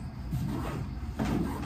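Cupboard doors open in a room, two soft muffled wooden knocks and scrapes close by, with low background hum and no talk.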